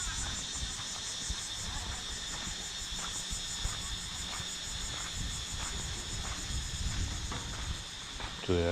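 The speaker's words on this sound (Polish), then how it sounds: "Te cykady to są śmieszne, bo jak one przestaną, to tak jakby ktoś je dosłownie wyłączył" Cicadas in Haad Rin on Koh Phangan, Thailand, keep up a dense, high continuous buzzing drone at moderate distance, with a soft background murmur beneath.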